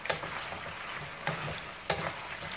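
Crushed black pepper fries in oil with a soft, steady sizzle and hiss, quiet and close, marked by three light clicks of a spoon or pan.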